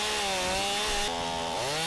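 A Stihl Farmboss chainsaw fitted to an Alaskan chainsaw mill cuts through an oak log, running loud and continuous at high revs, with the engine pitch dipping and shifting slightly as it bites into the wood.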